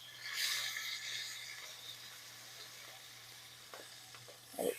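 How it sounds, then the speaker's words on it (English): A pot roast searing in a pot makes a soft, steady sizzle, fairly quiet throughout, with a few small crackles and a brief louder flare at the end. "Give it a sear."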